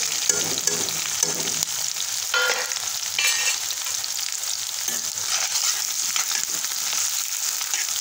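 Chopped onion frying in oil with cumin and garlic for paneer bhurji gives a steady close sizzle, with a few stirring scrapes over the hiss and no talk.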